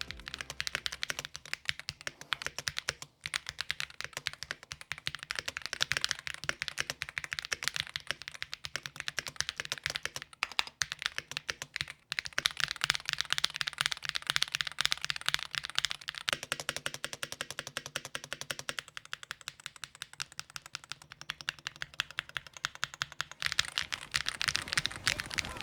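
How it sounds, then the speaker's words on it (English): Clacky typing on a mechanical keyboard in a tray-mount aluminum case, a steady rapid stream of crisp keystrokes with occasional brief pauses, close and fairly quiet. "Usually the combination of a tray mount plus aluminum top will yield a pingy sound, but I think they landed on a clack sound"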